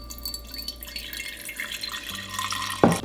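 Rice wash water pours and drips into a container in a kitchen, a close liquid trickle with splashes. The pour builds steadily and ends in a brief sharp clink of glass. No one speaks.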